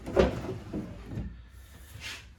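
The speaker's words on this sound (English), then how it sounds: "We take the drawer out, we can see that it's lined in ash" Wooden drawer of a Victorian campaign chest being pulled out, a few soft knocks and a sliding scrape, close and fairly quiet, with no talk.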